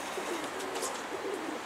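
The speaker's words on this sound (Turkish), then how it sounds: "Kuş." Outdoors, a bird, likely a pigeon or dove, gives soft low cooing calls that repeat a few times over steady background noise, at a moderate distance.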